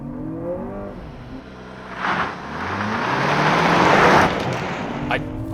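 A 2023 Lexus RX 500h launches hard in sport mode with traction control off, its engine note surging and rising into steady, loud acceleration noise from inside the cabin while an occupant talks over it.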